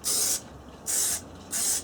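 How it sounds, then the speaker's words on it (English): An aerosol spray can hisses across wood in three steady bursts, each about a third of a second long with short pauses between, close and fairly loud with no talking. "So just shake it up a little bit, if you can, and just spray it across."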